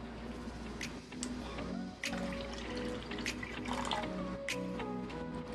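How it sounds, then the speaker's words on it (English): Clorox bleach poured into a container of water for homemade lavender disinfecting wipes, a steady liquid pour and trickle with small splashes and drips, close and moderately loud, no talking. "I'm going to go ahead and put 2 tablespoons of Clorox."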